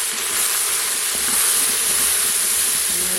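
Pork and shallots sizzle as they brown in a pan for a cider pork sauté, a steady, close, hissing fry that runs evenly throughout with no voices.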